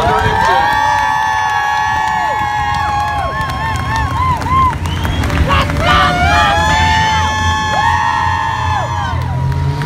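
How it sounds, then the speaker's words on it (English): A cheering speedway crowd at a car race with 4-cylinder engines, loud and continuous roaring and whooping for the full stretch, while an announcer's voice carries over the top. "let's let them hear the roar of the crowd over their 4-cylinder engine."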